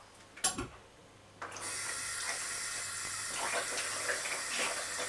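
Water is poured onto apple and bacon pie dough during kneading. After a few faint knocks, it turns into a steady, soft trickling stream that lasts to the end.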